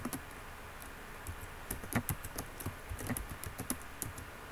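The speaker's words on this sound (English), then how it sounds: "then type our password" Quick, light keystrokes on a computer keyboard enter a password, a close run of soft clicks over a steady background hiss with no voices.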